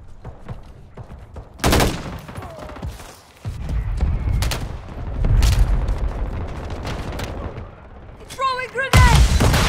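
Mortar strike explosions and gunfire in Call of Duty: Modern Warfare 3, with loud booming blasts and rattling volleys near and far, and shouted voices over the battle.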